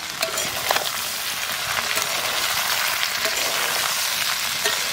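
Carrot, capsicum and beans fry in a pan with boiled pasta for a chicken pasta, a steady close sizzle with occasional light stirring clicks, no voices.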